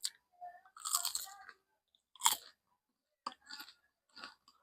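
Crunchy bites and chewing of a crispy turon, a fried banana roll, in several short bursts up close, with brief quiet gaps between them and no talking.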